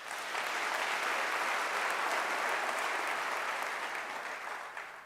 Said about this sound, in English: May I please request a round of applause for such pearls of wisdom.